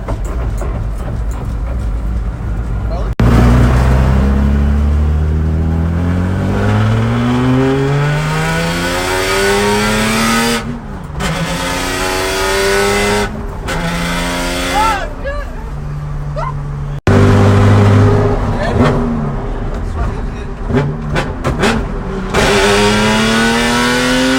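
A BMW E46 M3 engine revs hard and accelerates up close, loud rising and falling harmonic sweeps through repeated gear changes, with people talking over it.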